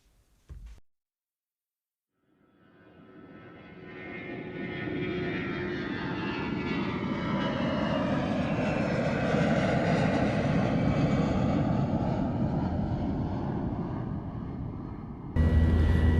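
An airplane flies past. Its engine roar swells up out of silence into a loud, sustained drone with a slowly sliding pitch, holds steady, then cuts off abruptly into a different noise.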